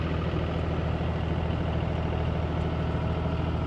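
A tractor engine idles steadily, hitched to a hay rake with the hydraulic line connected, a constant low rumble that stays loud and even throughout with no voices.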